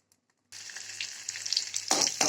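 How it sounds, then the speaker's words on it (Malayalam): Mustard seeds drop into hot coconut oil and start to sizzle after a brief silence, the frying growing louder with sharp crackling pops near the end. "ഇനി വെളിച്ചെണ്ണ ചൂടാവുമ്പം അതിലേക്ക് കടുക് ഇട്ട് പൊട്ടിച്ച്"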